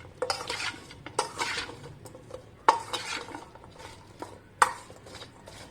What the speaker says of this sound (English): Next we mix all these ingredients together to ensure that the masalas stick onto the gopi